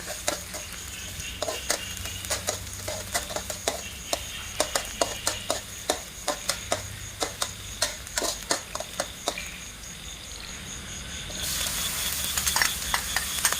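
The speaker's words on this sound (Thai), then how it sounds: "ใส่กระเทียมลงไปผัดให้หอมค่ะ" Quick rhythmic scrapes of a spatula against a hot oiled pan as garlic stir-fries over a soft, continuous sizzle, repeating steadily close by before easing into plain frying.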